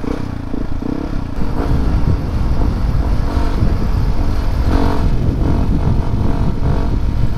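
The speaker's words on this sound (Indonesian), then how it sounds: "Kalau digeber doang baru berisik." A Yamaha WR155R motorcycle engine revs loud and close, a sustained roar with surging bursts of throttle throughout and no voices.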